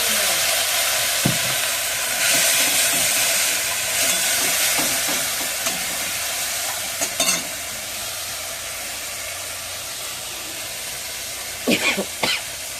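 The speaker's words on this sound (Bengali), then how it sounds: "লবণ মশলাটা যেন আপড়ে যায় একটু জল দিয়ে কষে নেব" Spices and salt stir-fried with a splash of water in a pan, a loud continuous sizzle with occasional utensil scrapes and a brief cough, close up, no talking.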